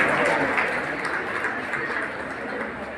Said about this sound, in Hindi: एक बार आप तालियों के साथ शामिल हो जाइए